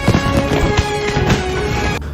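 Fireworks go off on New Year's Eve in a Jurassic World film scene, scaring off Ouranosaurus dinosaurs, with a dense run of loud crackling bursts and pops over a busy film soundtrack that cuts off abruptly.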